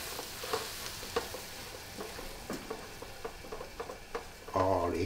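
Flour is stirred into onions in a pan for a French onion pasta: quiet, intermittent scraping strokes over a soft sizzle, then a brief louder burst at the very end.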